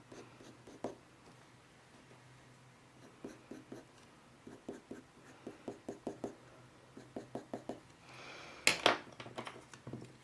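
Colour pencil scratching fur strokes onto paper, a run of short quick scrapes that grows denser and louder toward the end, close-up and quiet with no talking.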